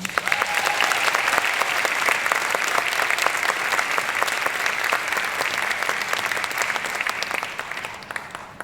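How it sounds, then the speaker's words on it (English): An audience applauds steadily after a dancer's Arangetram performance, dense clapping from many hands sustained at an even level throughout with no pause. "Let's have a huge round of applause for Anjani."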